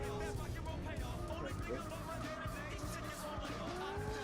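An AC Cobra sports car accelerates hard, its engine note rising and shifting continuously; a person talks over the roar throughout.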